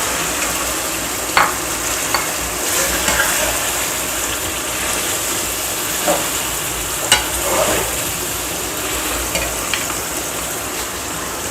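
Fish going into a pan of softened tomatoes for a fish pulao, sizzling steadily with occasional scrapes and clinks of stirring; a continuous frying hiss with no talk.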